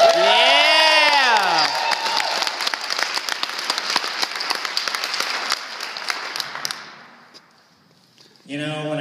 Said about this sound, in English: I think we should give another cheer for Jim Perry.